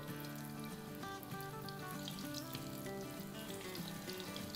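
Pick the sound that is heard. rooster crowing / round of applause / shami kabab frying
shami kabab frying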